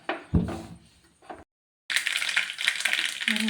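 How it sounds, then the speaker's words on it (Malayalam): Mustard seeds popping in hot oil in a pot while cooking morappam: after a brief lull, a dense, close crackle of rapid pops and sizzling that holds steady to the end, with a short earlier burst of clatter. "കടുക് പൊട്ടട്ടെ."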